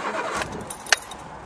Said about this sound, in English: I'm not going to fillet it or pump or anything, I'm just going to start it